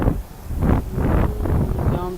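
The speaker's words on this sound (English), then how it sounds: "It's so windy out here." Strong wind buffets a microphone outdoors in repeated low, rumbling gusts that swell and fade, loud and close throughout.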